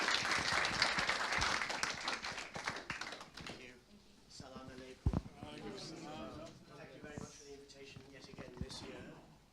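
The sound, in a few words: audience applause for speaker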